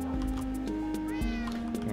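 A cat meows in the video game Minecraft, short tonal mews rising and falling over steady game background sound, with a voice briefly present.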